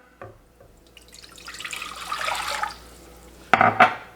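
Two cups of water poured into a pot holding melted butter for gravy, a steady splashing pour that builds and tapers, followed by a couple of sharp clanks near the end.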